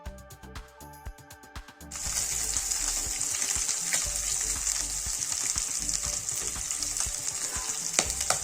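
Turmeric-coated fish frying in a pan. A couple of seconds of rattling, clicking handling give way to a loud, continuous close sizzle of hot oil, with occasional small pops.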